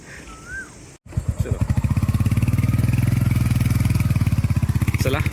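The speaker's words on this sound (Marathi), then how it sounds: "बाईक धक्का मारून स्टार्ट करावी लागते" A motorcycle on a coastal ride is push-started, its engine catching after a brief gap and settling into a loud, steady, rapid thumping idle close by, with voices faintly present early on.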